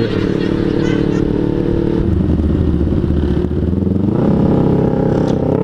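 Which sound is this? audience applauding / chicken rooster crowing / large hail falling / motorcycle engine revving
motorcycle engine revving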